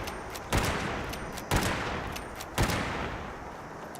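Three loud, evenly spaced lever-action rifle shots in the Fallout 76 video game, each a sharp crack followed by a short echoing tail, with no talking.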